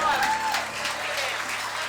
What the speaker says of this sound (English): So a big applause to this party.